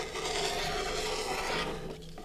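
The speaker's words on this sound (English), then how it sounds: "Take your rotary cutter" A rotary cutter trims quilt fabric along a ruler, a close, continuous rasping rub lasting about two seconds before fading.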